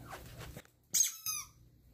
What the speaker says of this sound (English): I got her a little squeaky bone